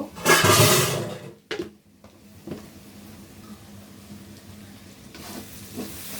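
Onion fries in a pan, opening with a loud burst of hissing sizzle that fades to a softer, steady frying crackle, then swells again briefly near the end.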